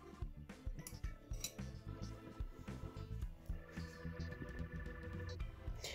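Spoons clink and tap against a container while glue-free slime is mixed with honey, a faint, irregular run of small metallic chinks and scrapes with no talking.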